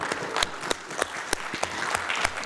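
Members of a parliamentary anti-corruption gathering clap to adopt a declaration: sparse, fairly soft applause from a small group with a few sharp individual claps standing out over a murmur.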